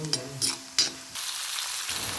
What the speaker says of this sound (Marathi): त्यासाठी लोखंडी तव्यावर थोडंसं तेल गरम करून घेतलं. त्यात आलं आणि लसूण छान फ्राय करून घ्यायचं आहे.